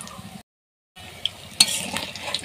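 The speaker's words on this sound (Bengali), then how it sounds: "আমি হেলেঞ্চাটা 2 পিঠ ভালো করে ভেজে নেব" Helencha greens fry in an oily pan, turned to cook both sides, giving a soft steady sizzle with light stirring scrapes that stops briefly and then resumes.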